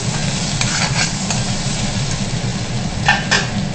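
Swamp eel pieces frying in a pan make a steady, even sizzle with a few brief clinks of a utensil against the pan near the end.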